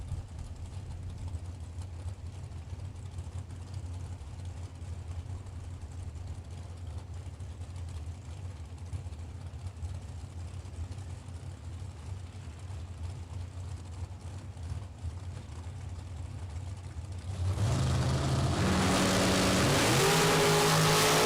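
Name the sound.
drag racing cars launching down the strip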